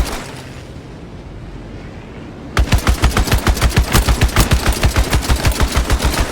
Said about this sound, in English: These guns are so powerful!